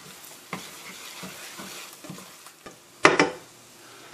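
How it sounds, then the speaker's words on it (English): Garlic and onions sizzle in a pan while being stirred: a low crackle runs throughout, broken by soft scraping strokes, with a louder, sharper burst of sizzling and clatter near the end. No one speaks. "we're going to add 2 cloves of garlic. Give this a good stir."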